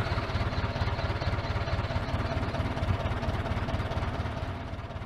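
A small tractor engine chugs steadily at idle with a fast, even putter, close and continuous, easing off slightly at the end.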